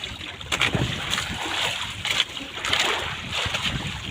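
Large sea waves splashing against a small boat out on open water, irregular close sloshes and slaps with wind noise buffeting the microphone.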